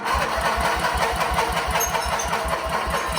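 A turbocharged lawn mower engine fitted with a new exhaust cranks over in a steady, rapid pulsing rhythm without catching, loud and close throughout with no talking.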